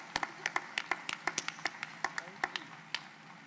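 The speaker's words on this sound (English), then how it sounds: "one more round of applause for our Hillary Bobcat." Scattered hand claps from a small audience at a fall college convocation, about a dozen distinct sharp claps spread unevenly over a few seconds, fairly faint and sparse rather than a full ovation.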